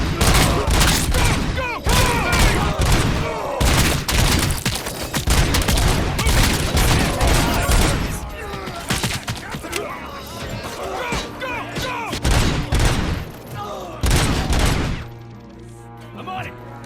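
Heavy gunfire in a chaotic firefight in RoboCop Rogue City, dense bursts of shots and impacts rattling almost continuously before thinning near the end, with shouted voices mixed into the battle.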